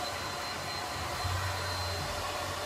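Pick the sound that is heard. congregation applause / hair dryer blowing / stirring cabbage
hair dryer blowing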